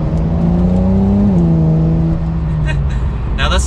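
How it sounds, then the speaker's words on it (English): Porsche 911 Carrera S (992) with its exhaust in the loudest mode and Sport Plus engaged, a steady engine drone that rises briefly then eases off, close and continuous throughout. "I also have the exhaust in the loudest mode as possible."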